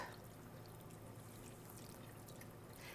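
A cup and a half of milk poured gradually into a pan for a ham casserole, a continuous soft liquid stream that runs steadily for a few seconds with no voices.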